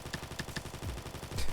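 A MAC-10 fires in the shooter game Combat Master, a rapid, dense string of close automatic shots running through the whole brief burst.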